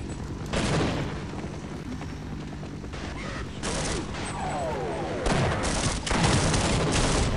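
Enemy gunfire aimed at the player in the Half-Life game, repeated loud bursts of shots and impacts over a steady rumbling background, with a voice talking faintly at times.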